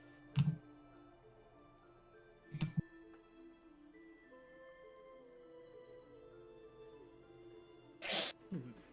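A single sharp sneeze bursts out near the end, after two brief tapping knocks, over a soft steady background tone.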